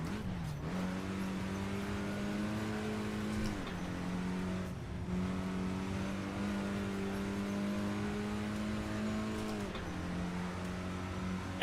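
A front-wheel-drive racing car in Assetto Corsa drones steadily, its stripped-interior engine note rising through gears with brief dips at shifts, heard alone without voices.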